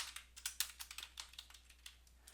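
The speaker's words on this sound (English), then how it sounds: "I would type an @ symbol" Quick clicking keystrokes on a computer keyboard while typing an @ symbol, a dozen or so light taps in an uneven rhythm, close and quiet, with no talk.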